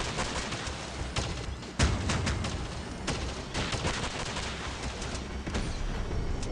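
Dense, continuous weapon fire in the Crossout mobile vehicle combat game, with rapid bursts layered over a steady rumble of battle noise, loud and close throughout.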